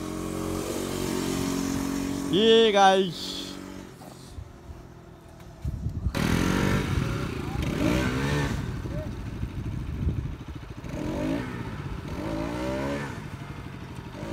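Motorcycles ride through Mumbai traffic, engines revving and accelerating in several surges with a rising whine near the start, passing close by under someone talking over the ride.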